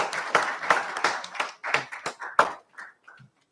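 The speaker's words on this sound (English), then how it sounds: "So give him a big hand, a big applause" Conference audience clapping, a short run of distinct, fairly sparse handclaps that thin out and stop after about three seconds, close and clear against quiet.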